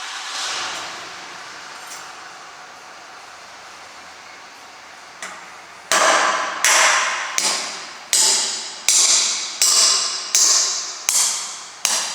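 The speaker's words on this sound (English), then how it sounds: "Let the hammer do the work." After a quiet stretch, a hammer strikes about ten times in a steady, evenly spaced rhythm while installing a two-post car lift, each blow loud, sharp and close.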